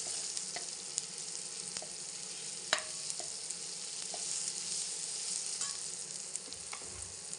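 Peas and potatoes sizzle in a pan as turmeric is stirred in for a homemade matar aloo tadka. The frying hiss is steady and close, with occasional sharp clicks and scrapes of the stirring spoon against the pan.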